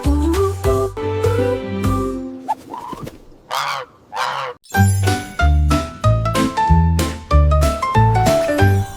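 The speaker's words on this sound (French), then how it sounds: "Une oie volant dans un ciel clair." Bright tinkling musical notes play in a lively rhythm in a children's nursery song, with a short squawky goose-like honking passage in the middle.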